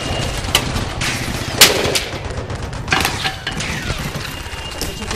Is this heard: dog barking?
no